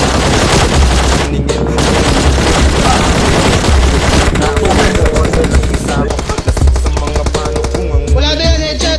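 Continuous rapid gunfire from a shooting video game, dense automatic bursts and explosions filling the whole stretch loudly, with players talking over it.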